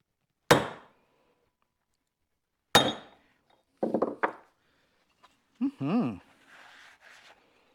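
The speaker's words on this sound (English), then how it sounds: "I'm just going to give it another couple of whacks, just for good measure" Sharp metallic hammer whacks on a part of a 1971 Cadillac Coupe DeVille drivetrain: two loud isolated blows, then a quick cluster of lighter taps, followed by a brief spoken voice.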